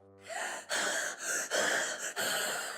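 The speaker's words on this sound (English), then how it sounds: "And what if you breathe onto the foil?" A cartoon character breathes onto foil in several heavy, breathy exhalations, four or five close puffs in a row, each a soft hissing rush of air after a brief musical tone at the start.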